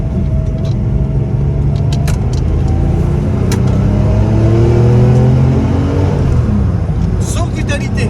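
Porsche 911 with a 2.7-litre engine accelerating on the road, a steady loud engine rumble with rising revs throughout, heard from inside the car while a person talks over it.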